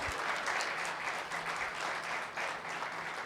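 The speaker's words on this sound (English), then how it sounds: "give a big round of applause." An audience at an awards ceremony in Phuket, Thailand claps in a sustained round of applause, a steady crackle of many hands that swells and dips slightly over a few seconds without speech.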